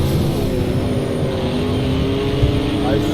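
Race car engines drone in a racing video game, including a Radical car. A steady, loud, layered whine holds for the whole stretch, with a brief swell near the end.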